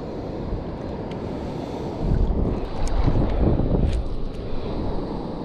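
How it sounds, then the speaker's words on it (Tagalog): Wind buffets a small boat at sea during solo fishing ahead of an approaching storm, with steady gusty roar and microphone rumble that swells louder midway through. "Hangin."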